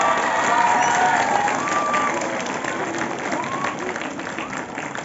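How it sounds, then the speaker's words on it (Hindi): Applause rises from an audience at a stage event honoring a woman's self-written lines, with cheering and scattered voices mixed in, loudest at the start and fading slightly over several seconds. "एक बार मैडम के लिए जोरदार तालियां"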